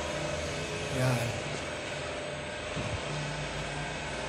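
A generator's steady low engine drone runs throughout, muffled as heard from indoors through walls, with faint room noise and a brief louder swell near the start.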